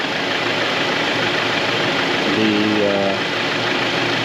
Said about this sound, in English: engine still running